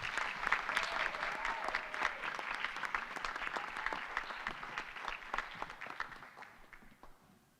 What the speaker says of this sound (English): How about another round of applause for that great performance?